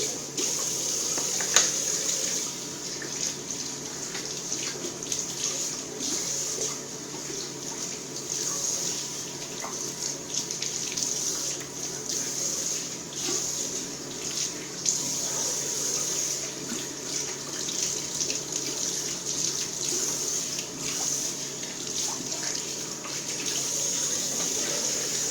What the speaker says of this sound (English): Let's rinse off and end the shave.